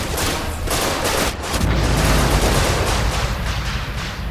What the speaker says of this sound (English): I could hear some weapon firing in the distance.